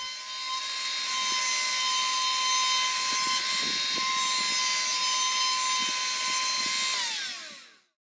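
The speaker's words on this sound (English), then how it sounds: "a small roundover bit is used to ease the inner and outer trim" A router table with a small roundover bit shapes wooden trim for a Catalina 30 sailboat cockpit, a steady high-pitched whine held for about seven seconds before spinning down, close and loud with no talk.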